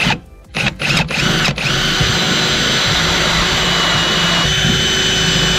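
A small hole being drilled with a power drill during an overland vehicle build, a loud steady whine that starts after a few short bursts and then runs on continuously and close.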